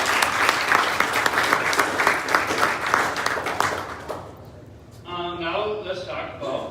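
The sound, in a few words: applause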